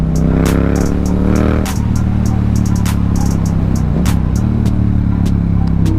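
A Honda CBR650R sport motorcycle's engine idles close by with a steady low drone, briefly rising in pitch around a blip, while sharp clicks and ticks sound over it throughout.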